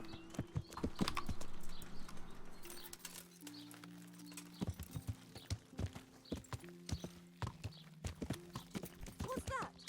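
A horse's hooves clip-clop at a steady trot in the medieval game Kingdom Come: Deliverance, crisp regular hoofbeats close by, with soft background tones and a voice talking over the start.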